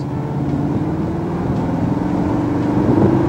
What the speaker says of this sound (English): engine becomes louder slightly, so the dynamics become more sporty